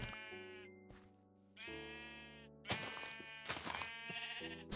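Several Minecraft sheep bleat in turn, nasal wavering calls near and fairly loud, with brief gaps between them and no talking.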